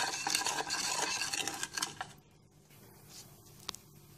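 Milk and two tablespoons of sugar are stirred in a saucepan, giving a close, busy swishing and scraping for about two seconds, then near quiet with a single light utensil clink.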